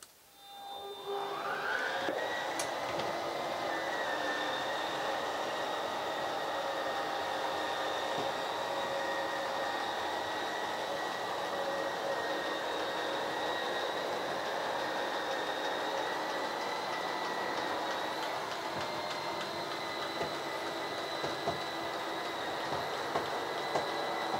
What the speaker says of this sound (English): So hold it till that motor shuts off, and then we're going to do the identical thing when we go back out.